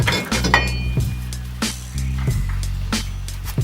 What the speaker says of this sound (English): Now I'm gonna remove the rotor.